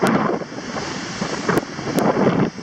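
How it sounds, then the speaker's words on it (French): Strong wind buffets the microphone on a beach in Morbihan, a loud, continuous roar with surf-like rushing and a couple of brief sharp knocks, no voices. "j'essaye de vous mettre à l'abri du vent"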